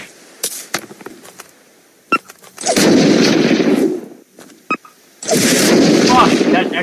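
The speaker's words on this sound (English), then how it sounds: "I think it was somebody shooting us." Gunfire in the video game Unturned: scattered sharp single shots followed by two sustained bursts of rapid automatic fire, loud and close, with players chatting between the shots.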